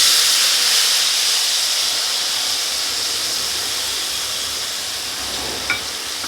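Soaked tamarind water hits a hot pan and sets off a loud, steady steamy hiss that slowly eases off over several seconds, with a small clink near the end.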